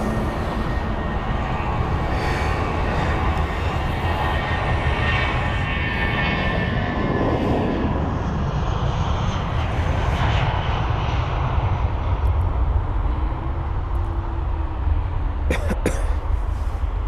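An aircraft takes off at London Heathrow, a loud, sustained jet roar with a deep rumble that holds steady throughout, heard from the airport's surroundings.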